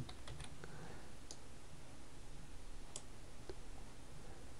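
Faint, scattered keystrokes and clicks on a computer keyboard while someone works through an Unreal Engine 4 tutorial, with irregular taps against a quiet room hiss.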